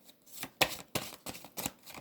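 Major arcana tarot de Marseille cards are shuffled by hand in a quick run of crisp riffling bursts, about five close, papery snaps in two seconds.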